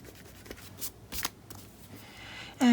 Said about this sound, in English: Let me just erase this.